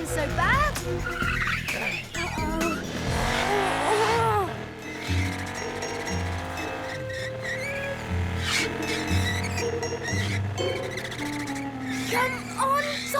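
Cartoon motorcycles race on sports day with revving engines, squealing tyres and whooshing effects layered over bright music, with sweeping pitch bends and some character speech mixed in.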